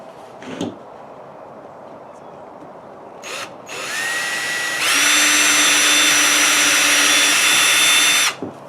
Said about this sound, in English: let me try to drill a pilot hole right here